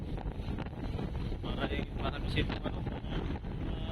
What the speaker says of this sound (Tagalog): Dito kasi banda talagang malakas yung hangin.